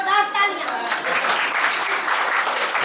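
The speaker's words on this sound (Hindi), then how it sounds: "जोरदार तालियां।" Loud audience applause fills a community Vijaya Milan 2024 gathering in Bhagalpur, Bihar, rising right after a short voice at the start and continuing steadily as dense, sustained clapping from a large crowd.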